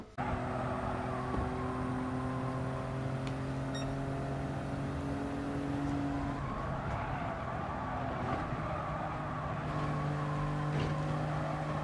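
Race car engines in Gran Turismo 7 hold steady tonal drones, with a shift in pitch midway, continuous and moderately loud with no talk.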